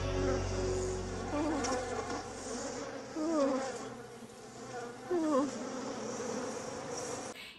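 Bees buzz close around, a droning hum with wavering whines passing near, quiet and continuous with no voices.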